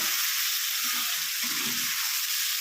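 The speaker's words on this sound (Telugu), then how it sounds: "టమాటా ముక్క మెత్తబడే వరకు వేగనివ్వాలి." Tomato pieces sizzle steadily in a hot pan for curry, a constant bright frying hiss with soft stirring bumps underneath.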